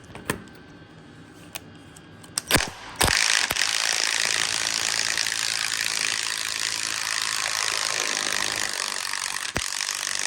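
Ratchet wrench working a stubborn nut off a fuel tank strap on a 1996 Dodge Dakota, a few sharp clicks and knocks followed by a steady loud mechanical whir, close up with no talk.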